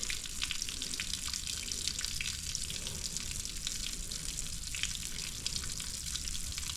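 Water drains and splashes steadily off the PTO of a Ford 2N tractor, a continuous close hiss and trickle with no break.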